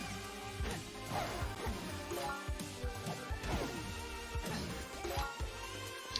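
Glass shattering repeatedly in the video game Cadence of Hyrule, a rapid series of crashes and smashes over busy rhythmic game music, loud and dense throughout.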